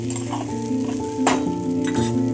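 Sabudana khichdi is stirred in a hot pan, a close, steady sizzle broken by a couple of quick scraping strokes of the spoon against the pan.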